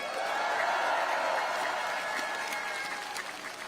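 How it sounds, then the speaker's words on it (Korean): A crowd at a political speech in Pyeongtaek claps steadily for a few seconds, the applause strong at first and gradually thinning out toward the end. "잘하라고 박수 한번 부탁드립니다"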